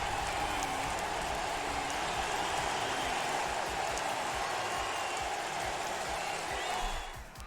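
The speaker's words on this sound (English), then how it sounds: "What is the crowd doing?" Crowd noise fills a Trackmania esports event hall, a steady, dense roar of many voices and applause-like hiss that holds level, then drops off abruptly at the end.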